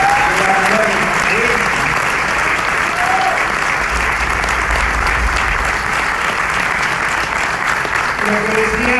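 Steady, dense applause from a large audience at a political reception for Alberto Fernández in Posadas, loud and continuous throughout with a few voices mixed in.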